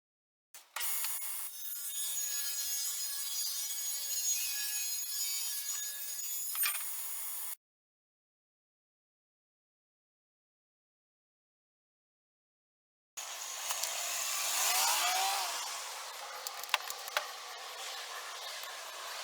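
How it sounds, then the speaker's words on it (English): Rough-sawn lumber is ripped into 2-inch strips for a wooden bench: a steady power-saw cut runs for about six seconds, silence follows, then a second rougher, louder cut begins. No talking. "So I'm going to rip this into 2-inch pieces"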